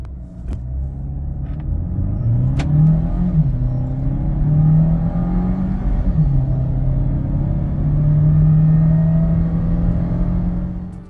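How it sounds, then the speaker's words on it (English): A 2023 Renault Captur with a 1.3 turbo engine launches hard from a standstill, its loud, close engine note climbing steadily through the gears with brief dips at each shift and a deep rumble throughout. "let us launch this vehicle and see what it's all about"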